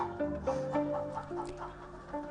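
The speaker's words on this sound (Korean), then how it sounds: "닭 중에 봉황이라 불리는 오골계를 키우고 있는" Black-boned Silkie chickens (ogolgye) cluck softly and repeatedly nearby on a farm, a few short tonal calls in an uneven rhythm over quiet background.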